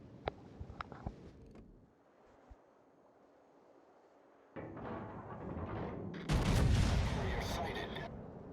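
Naval gunfire in World of Warships, with the Slava battleship firing: a few sharp reports over faint sea ambience, a quiet lull, then rising rumbling salvos that build into a loud, dense burst of explosions.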